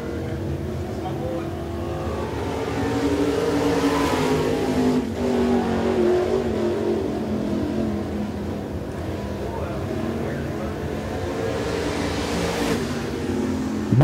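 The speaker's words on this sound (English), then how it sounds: "Next car coming out on the racetrack, that's the 89 of Brandon Miller" Sportsman race cars accelerate around Smoky Mountain Speedway during qualifying, a continuous engine roar that swells and fades as the cars pass at mid distance, with a commentator talking over it.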